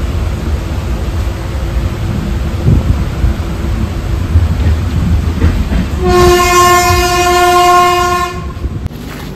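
A Diva–Ratnagiri passenger train runs with a loud, steady rumble and clatter heard from on board, then its horn sounds one long sustained blast near the end.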